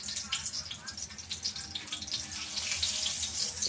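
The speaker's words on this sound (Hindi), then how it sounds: "ये देखें ऑयल गर्म हो गया, मैं इसे एक एक करके डाल दूँगी और लो फ्लेम पे ढककर फ्राई करूँगी।" Stuffed karela sizzles steadily in hot oil over a low flame, a constant bright crackle and hiss, with faint speech running underneath.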